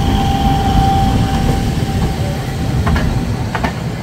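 A Chennai local train, the Chengalpattu service, rolling past with a loud, steady rumble, rhythmic wheel clatter and a few brief sharp metallic squeaks toward the end, with no voices.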